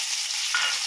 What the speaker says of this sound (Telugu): దీంట్లో మనము ముందుగా కోసి పెట్టుకున్న వెల్లుల్లి ముక్కలు మరియు పచ్చిమిరపకాయ ముక్కలు వేస్తున్నాము.